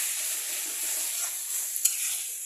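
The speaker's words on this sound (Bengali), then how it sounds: "মাঝে মাঝে উঠিয়ে একটু নেড়ে দিতে হবে, কারণ বাঁধাকপি তো তলায় চট করে লেগে যায়" Cabbage and potato frying in a pan and stirred, a steady close hiss of sizzling oil with a small utensil clink partway through.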